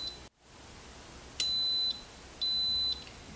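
An Instant Pot electric pressure cooker, lid sealed and set manually to 12 minutes for chicken adobo, gives a short beep, then two longer, high, clear electronic beeps about a second apart, close by with no talking.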